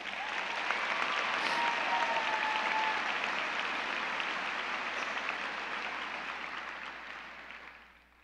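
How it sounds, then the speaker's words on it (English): Sustained audience applause at a 2018 Coronado High School graduation ceremony greets dignitaries and guests. The steady crowd clapping fills the space for about seven seconds, then tapers off at the end. "Please join us in welcoming our dignitaries and guests with your applause."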